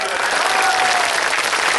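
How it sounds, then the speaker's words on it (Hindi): A mushaira audience applauds, with dense, continuous clapping from a crowd that stays loud and even through a short burst. "अशरफ मेमन साहब की ताली बजाएं"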